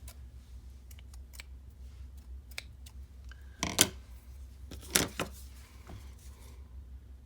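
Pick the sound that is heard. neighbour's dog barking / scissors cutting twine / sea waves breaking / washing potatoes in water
scissors cutting twine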